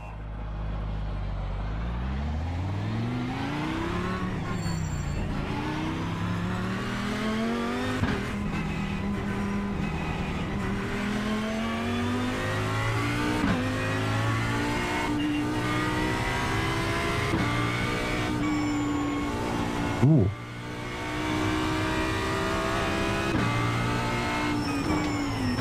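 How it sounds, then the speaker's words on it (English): An Audi R8 in a racing sim at the Nürburgring, its engine revving steadily and climbing through repeated gear changes, loud and continuous throughout, with a brief sharp burst near the end and no talking. "We're at the Nürburgring in the Audi R8."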